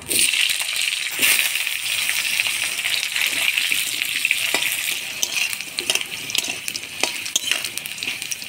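Potatoes tossed into oil tempered with black cumin crackle with a loud, dense sizzle, stirred now and then with scraping clinks of a spatula against the pan, close and continuous.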